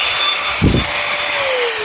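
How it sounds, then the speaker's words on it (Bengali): Senvox power tool running with a loud, steady high-pitched whine. A brief low thump sounds midway, and the pitch drops slightly near the end. No talking. "আমি আপনাকে চালিয়ে দেখাই কি একটা স্মুথ শব্দ দেয় এটা"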